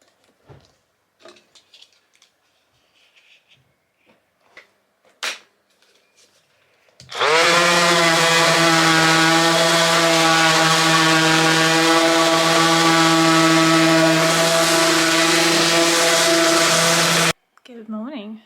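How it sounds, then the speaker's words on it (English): A power sander works the top of a wooden sleeper bench, starting abruptly with a loud, steady high-pitched whine that runs for about ten seconds and then cuts off, preceded by faint handling noises and brief talk. "Sand the top down."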